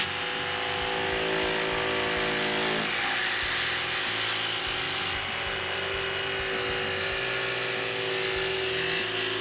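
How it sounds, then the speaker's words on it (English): A RIDGID 18V OCTANE cordless jigsaw makes a plunge cut, its motor whining loudly and steadily with a rapid blade chatter that shifts pitch slightly a few seconds in, close by and alone without talk. "Now, let's actually do a plunge cut real quick."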